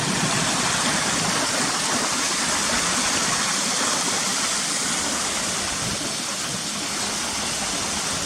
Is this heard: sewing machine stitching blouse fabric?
no